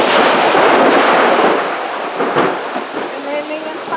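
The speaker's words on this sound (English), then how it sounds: "it's coming a little lightning storm" Thunder rumbles beneath steady rain in a lightning storm, with a broad roll of thunder early on fading into continuing rain noise and a few faint distant crackles.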